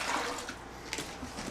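Liquid poured into a bucket, a soft, fairly faint splashing and trickling flow with a few small splashes.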